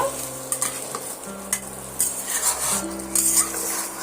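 A spatula stirs potatoes coated in cumin and chilli powder through a pan, giving several close scraping strokes over a soft steady sizzle while aloo dum cooks.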